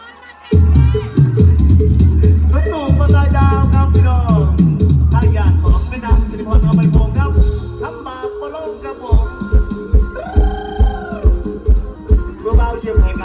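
A loud crowd shouts and cheers over thumping mor lam music at a concert in Nakhon Phanom, Thailand, voices rising in excited bursts with rhythmic beats continuing underneath.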